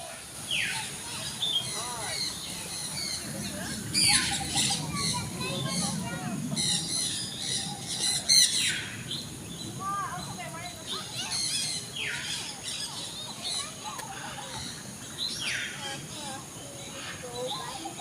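Birds squawk and call at Jurong Bird Park in Singapore, with repeated sharp chirps and calls scattered through a busy aviary ambience while people talk in the background.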